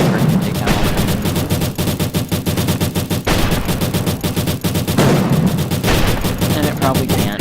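Railgunner sniper rifle shots in a video game crack out in a dense, rapid barrage of loud gunfire, with repeated bursts and booms running continuously throughout.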